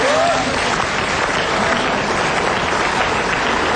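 A studio audience applauds continuously, a dense, even wash of clapping close by that fills the whole stretch, with a voice faintly audible under it.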